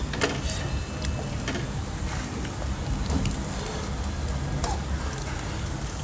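Steady rain patters on a surface with a constant broadband hiss, light scattered drops ticking through it, no pauses.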